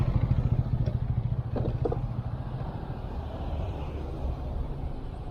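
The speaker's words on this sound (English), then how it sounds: "This motorcycle right here." A motorcycle out on the street sounds first as a close, throbbing engine pulse, then fades into a broad, rushing traffic roar as it moves away, with some light clatter in the background.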